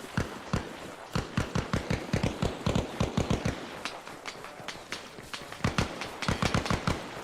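Gunfire in the military shooter Arma Reforger: rapid, close, sharp shots in uneven bursts and single cracks, some clustered like automatic fire, continuing steadily for several seconds with no talk.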